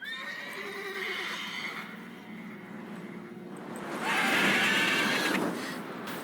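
A horse in The Witcher 3 video game whinnies loudly twice, the second neigh longer and higher, over a steady background of game ambience and faint hoof clip-clop.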